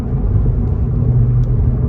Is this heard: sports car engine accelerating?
yes